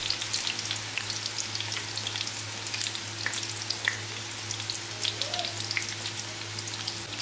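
Cauliflower pieces fry crisp in a pan over medium-high heat, a dense, continuous sizzle full of tiny popping crackles close by, with a low electrical hum underneath.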